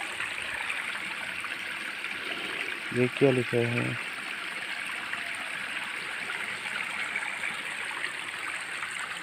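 A stream near a hot spring flows with a constant rushing wash, heard steadily nearby, and a person speaks briefly partway through.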